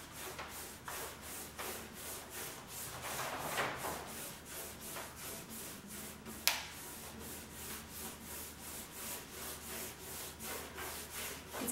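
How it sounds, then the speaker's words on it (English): A paintbrush drags blue chalk paint across wooden furniture in quick, regular strokes, a close, dry scratchy swish repeated steadily, with one sharp tap partway through. "So I'm going to do my first coat with the chalk paint of blue."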